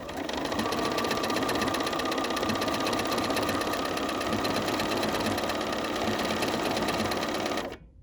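A sewing machine runs a decorative stitch on a fabric postcard, a fast steady mechanical chatter held close and continuous for several seconds before stopping abruptly, with no voices.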